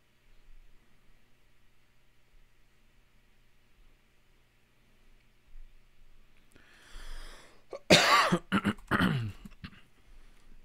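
A man coughs several times in a burst of harsh, close bursts near the end, with a quiet room tone beforehand and no talking.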